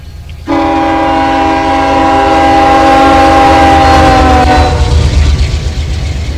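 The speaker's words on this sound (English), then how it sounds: "Your train horn sounds so funny." A sustained custom multi-tone K5HL train horn in the train simulator game Run8 blasts loudly for about four seconds over a low rumbling engine, then cuts off as the rumble continues.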